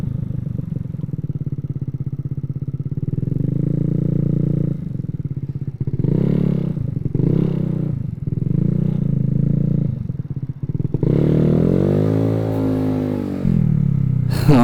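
Yamaha Zuma RC158 125 scooter cruising on a freeway, its steady engine drone close and loud, pitch swelling and dipping with throttle changes, with wind buffeting and rising revs toward the end.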